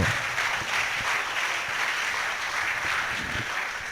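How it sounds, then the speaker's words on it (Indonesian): An audience at a university public lecture claps steadily for a few seconds, a dense patter of applause from many hands at moderate volume. "Tepuk tangan dulu."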